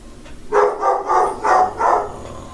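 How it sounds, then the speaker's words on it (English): A dog barks four times in a steady rhythm, moderately loud and somewhat distant, over faint background hiss. "Now the dog is barking at something."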